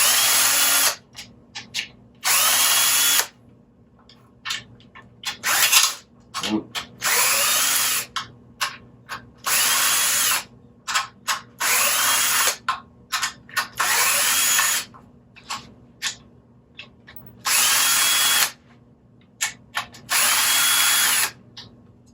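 A power tool loosening bolts on an AMG engine during a rebuild: repeated loud, close bursts of high whirring, each lasting one to two seconds, with short pauses and clicks between them, and no talk.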